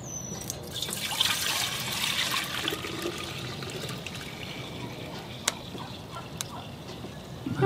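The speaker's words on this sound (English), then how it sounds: "Let's pour it into our 1 gallon tote." Goat milk pouring into a one-gallon tote, a soft steady trickle of liquid running for several seconds with a few faint clinks, fairly quiet and close.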